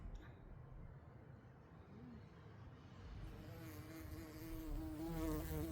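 Big bumblebees buzzing among rows of dahlias in a flower garden, a faint, low, wavering drone that swells toward the end, heard alone at a distance.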